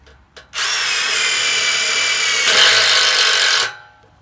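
A power drill drives screws into a Dominator jack during a repair, one steady loud whirring run of about three seconds with a brief change in pitch partway through, and no talking.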